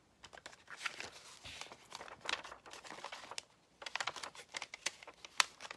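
Sticky two-sided paper having its backing pulled off in papercraft work, a run of crisp crackling and ripping bursts with short pauses, close and fairly quiet.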